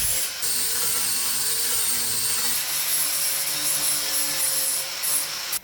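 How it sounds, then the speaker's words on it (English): An angle grinder works on the metal floor panel of a Golf MK2 GTD, giving a loud continuous abrasive rasp with a high steady whine that holds almost to the end. "a little bit of grinding,"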